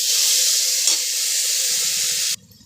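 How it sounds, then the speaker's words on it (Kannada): Onion and spices fry with salt in a pan for fenugreek pulao, a loud close sizzle that holds steady for about two seconds and then cuts off abruptly to near quiet. "ಈಗ ಸ್ವಲ್ಪ ಉಪ್ಪು ಹಾಕ್ಕೊಂಡು ಇದು ಫ್ರೈ ಮಾಡ್ಕೊತಾ ಇದ್ದೀನಿ."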